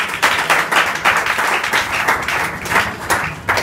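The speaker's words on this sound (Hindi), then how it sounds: "ताली बजाएं" A classroom group gives a classmate a round of applause, with continuous, dense clapping close by from start to finish.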